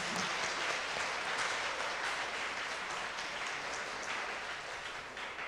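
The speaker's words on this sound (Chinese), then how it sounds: "我们用掌声来谢谢欢迎他们" A church congregation claps warmly to welcome guests during a Sunday service, a sustained, dense round of applause filling the hall, steady for several seconds and tapering slightly at the end.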